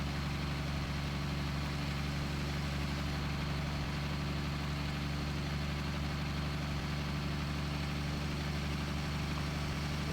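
A heavy truck engine labouring at low RPM in the driving game Hard Truck 18 Wheels of Steel, a steady deep drone and rumble holding constant throughout without any voices.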